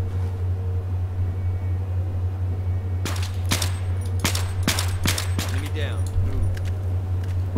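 Gunfire in the video game Battlefield 3, a series of sharp single shots at irregular intervals over a constant low engine hum, with a player's voice audible at times.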